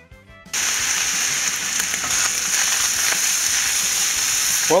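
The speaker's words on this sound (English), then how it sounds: "And while we're frying the hamburger" Lean ground beef fries and sizzles in a pan for spaghetti sauce. After a brief quiet start the hiss comes in loud and close, with occasional scraping and stirring sounds on top.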